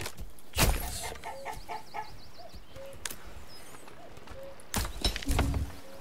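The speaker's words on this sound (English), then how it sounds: "Let's get some chickens." Chickens in the medieval city-building game Manor Lords give a few short clucks and calls spread across the moment, with two louder bursts near the start and end over a low ambient game bed.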